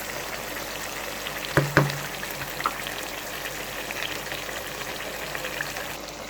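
Whole potatoes fry in mustard oil for aloo ka salan, a continuous soft sizzle and crackle with a couple of sharper pops or clinks partway through.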